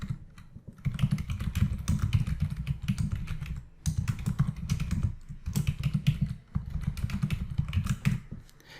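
Fast, steady typing on a computer keyboard while writing code, close and crisp, in dense bursts broken by a few brief pauses, with no talk.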